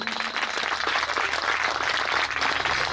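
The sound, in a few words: audience applause at Shiv Puran katha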